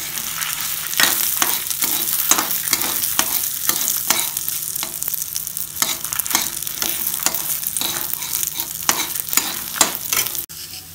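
Urad dal and coriander seeds dry roast in a pan for curry leaf powder, a spatula scraping and stirring them in a brisk continuous rhythm over a light steady crackle, close and alone without talk.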